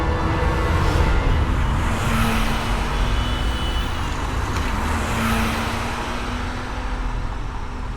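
A car driving along a road, a steady close engine and tyre rumble with a faint tonal hum, continuous and fairly loud with no speech.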